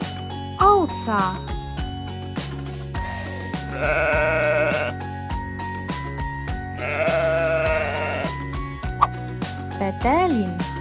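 A sheep bleats twice in wavering, nasal cries over a steady rhythmic music track, with short pauses between calls.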